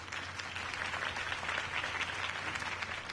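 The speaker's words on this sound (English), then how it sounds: "If only Mr. Wayne, my campaign's largest backer, could have heard that applause" Crowd applause at a political campaign rally in the Batman Telltale video game, a steady, dense wash of clapping from many hands, moderately distant and unbroken throughout.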